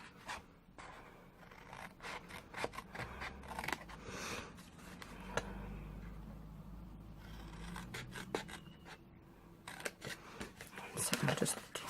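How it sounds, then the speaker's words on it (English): Scissors cut card straight along score lines for a Stampin' Up advent calendar, with soft snips and rustling paper close by while a person talks quietly throughout. "So just cut straight down them score lines to that first score line."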